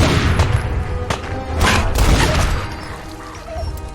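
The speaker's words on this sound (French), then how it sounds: "Ok, le Desert Eagles, ça déconne pas." Desert Eagle pistol shots in Fallout 4 come as heavy, booming reports layered over a dense, rumbling in-game backdrop, several blasts running close together at fairly loud level.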